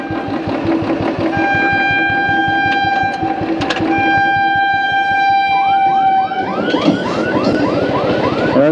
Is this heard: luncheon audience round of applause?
no